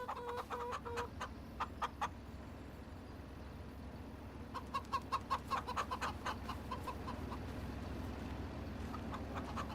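A rooster in the video game Farming Simulator 25 clucks in short repeated bursts, first a few spaced clucks, then a quicker run of clucks, over a steady low background hum.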